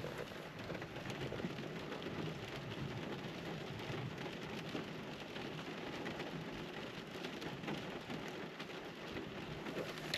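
Steady rain falls heavily and evenly on surfaces, a dense continuous patter that holds at a constant level with no voices.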